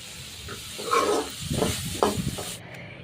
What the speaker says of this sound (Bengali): তারপর চিংড়ি মাছগুলো লাল লাল করে ভেজে নিচ্ছি